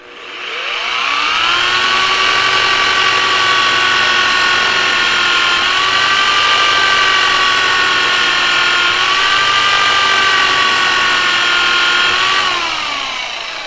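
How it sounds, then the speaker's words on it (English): A rotary car polisher buffs compound off a 2019 Ram 3500, a loud, steady electric whine that spins up at the start, holds with small pitch dips under load, then winds down near the end, close and with no talking. "But you just get your polisher going."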